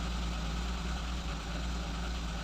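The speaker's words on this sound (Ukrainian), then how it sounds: "У нас оберти гуляють, ми бачимо 880, 920." The engine of a Lada Kalina idles unevenly with a misfire and wandering revs around 900 rpm, a steady low mechanical hum heard close up with slight wavering and no speech.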